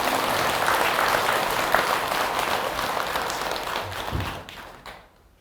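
An audience at a Buddhist dharma talk claps in a dense, sustained round of applause that gradually thins and fades out to quiet near the end, with a faint murmur of voices beneath.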